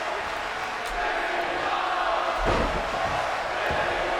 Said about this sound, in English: You hear the crowd chanting, "This is awesome."